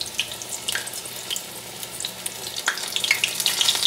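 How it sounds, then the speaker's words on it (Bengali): Bakful (vegetable hummingbird) flower fritters frying in oil in a home kitchen, a steady close crackle and sizzle with sharper spitting pops building toward the end, no voices. "বন্ধুরা, চলুন এইভাবেই সব বড়াগুলো ভাজা করে নিই"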